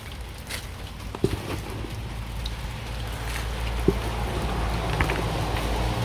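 Rain falls steadily on an outdoor garden of potted tomato plants, a soft continuous patter with a couple of sharper drips standing out.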